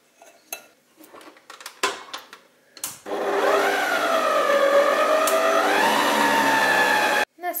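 Electric hand mixer whirring steadily as poppy seeds are mixed into a filling of beaten egg yolks, sugar, melted butter and honey, with kitchen clatter beforehand, then a loud continuous drone whose pitch rises and falls for several seconds before stopping abruptly.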